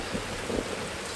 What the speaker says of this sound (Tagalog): ngayong umuulan